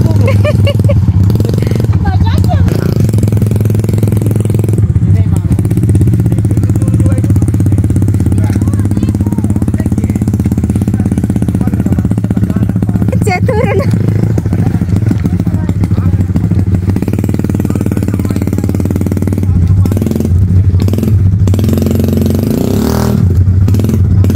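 A repaired motorcycle idles and revs loudly on a rural trail in remote Seko, South Sulawesi, its close, rattling engine note steady throughout, with people talking over it.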